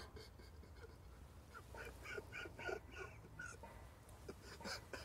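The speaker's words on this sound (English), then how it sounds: "Oh, this duck." A duck quacks faintly outdoors beside water during a fishing outing, a short run of nasal calls in the middle, with a couple more a moment later, over low background rumble.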